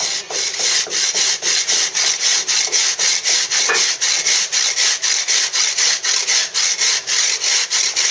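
A mason's drag scrapes across a Bath stone moulding in a steady series of loud, evenly spaced rasping strokes, about three per second, up close with nothing else heard.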